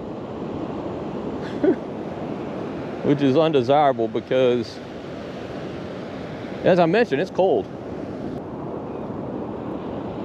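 Surf waves wash steadily along a windy shore with swift currents as someone wades into cold sea water, a continuous breaking-water hiss beneath someone talking in short bursts.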